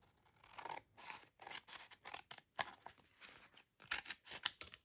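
Scissors snip through lace and paper journal materials in a series of close, crisp cuts, each a short rasping burst separated by brief pauses, with no talking.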